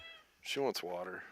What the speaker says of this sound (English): I don't know if you guys can hear the bossy cat in the background.